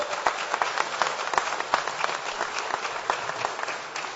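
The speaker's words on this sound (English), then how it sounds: "Can we give them a round of applause and make it loud?" A loud audience gives a sustained round of applause for National Guard members at a governor's event, dense clapping filling the room steadily throughout.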